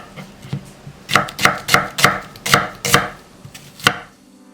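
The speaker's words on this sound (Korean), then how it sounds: "부재료 양파 작은 거 1개는 굵게 채 썰고" A knife cutting a small onion into thick strips on a board, a run of about ten crisp, evenly spaced chops up close, with no talking.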